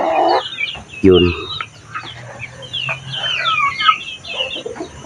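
Chickens on a chemical-free mountain farm cluck and squawk at close range in short, overlapping calls, while someone speaks briefly among them.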